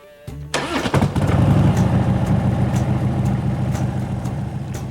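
A carbureted Harley-Davidson motorcycle engine cranks briefly, catches and fires into a loud, lumpy idle with an uneven rhythmic thump that carries on close by.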